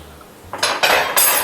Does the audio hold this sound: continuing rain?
no